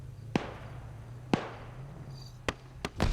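Grenade launcher shots in a competitive shooter match, five sharp separate pops at uneven intervals over a low steady hum, the last two coming close together and followed by a duller thump.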